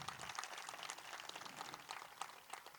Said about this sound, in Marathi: त्याच्यासाठी टाळ्या होते